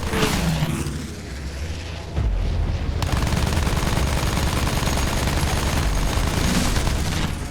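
Aircraft machine guns hammer out rapid, sustained bursts during an aerial dogfight in Battlefield 1. The fire is loud and dense and comes layered over engine roar and booming impacts.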